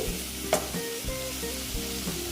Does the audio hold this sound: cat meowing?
no